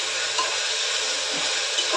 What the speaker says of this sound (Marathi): सर्व तेल आणि तूप घालून फोडणी करून घेतलेलं आहे. चांगलं परतून घ्यायचं आहे सर्व.